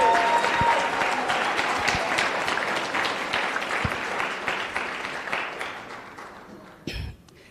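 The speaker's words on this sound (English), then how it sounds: "Thembi also deserves a very warm round of applause for a successful conference." A conference audience at a competition law, economics and policy event gives warm applause, a sustained crowd clapping that gradually tapers off before a brief bump of handling noise at the end.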